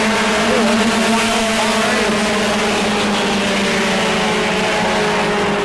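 Bomber class race cars racing around the New Smyrna track, a loud continuous engine roar with overlapping revving drones from several cars.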